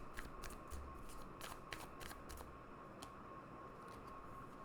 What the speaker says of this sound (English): let me pull some of the cards